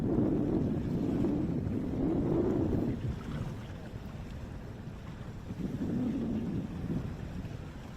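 Low, steady hum of a small boat trolling motor running at high speed on Lake Eufaula under gusty wind and water noise, swelling slightly at moments.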